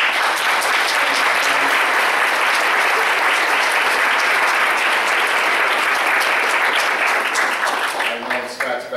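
Audience applause at a hospital roundtable meeting, steady and loud clapping from a crowd sustained for about eight seconds before tapering off.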